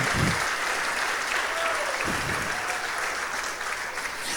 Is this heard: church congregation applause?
yes